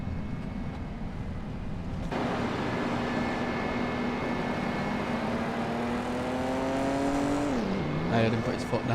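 A car in Farming Simulator 25 accelerates from behind, its engine drone rising steadily in pitch, loud and close, then dropping sharply as it shifts near the end; a person talks over it.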